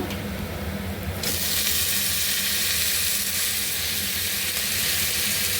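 Fresh methi (fenugreek) leaves dropped into a pan of hot oil with chillies and garlic over medium-low heat, setting off a loud, steady sizzle that swells abruptly and holds, with no talking.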